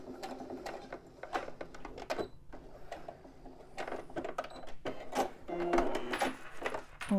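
A domestic sewing machine topstitching beside a zip on a fabric bum bag, in short bursts of rapid needle clatter broken by brief pauses and small handling clicks, close and moderately quiet.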